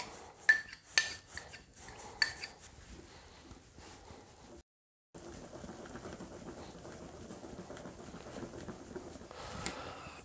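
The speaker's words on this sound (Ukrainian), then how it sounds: "Замішуємо. Додаємо сметану." Charlotte cake batter being mixed with sour cream in a bowl, starting with a few sharp utensil clinks against the bowl, then a soft continuous stirring and scraping after a brief gap, close and fairly quiet.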